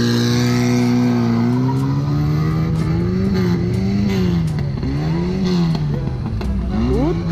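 A turbocharged VW Gol drag car at a drag strip practice session accelerates hard with a loud, close engine roar, its pitch climbing and then dropping at a gear change into second before climbing again.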